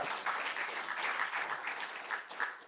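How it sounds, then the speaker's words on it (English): A live audience at a news special report in Minneapolis applauds steadily, a dense wash of many hands clapping at moderate distance, continuous throughout with slight swells and no talk over it. "I'd clap for that."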